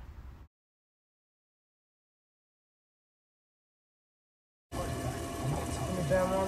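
Water poured into a hot pan of ground beef taco meat so it can steam, heard as a sudden steady rush of hissing and bubbling after a long silence, close and fairly loud.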